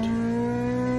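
A stock Honda VTi D16 engine with ported head and manifold hums steadily, recorded onboard in a car, as a brief, even drone with a strong low tone and no talking.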